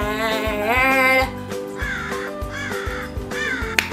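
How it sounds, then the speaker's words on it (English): A crow caws outside in a series of harsh, repeated calls at moderate distance, heard over a steady beat of background music. "Do you hear that bird?"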